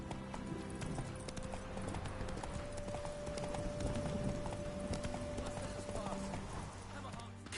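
Roach the horse in The Witcher 3 gallops with continuous rhythmic clip-clop hoofbeats at moderate volume. A held tone and a voice run underneath, and the hooves stay steady throughout.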